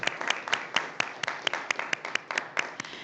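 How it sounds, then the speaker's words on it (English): A room of students claps for their own hard work, a quick, uneven patter of hand claps with sharper individual slaps standing out, fairly close and steady throughout. "I'm giving everyone a round of applause for all that hard work"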